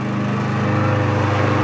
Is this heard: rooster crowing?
no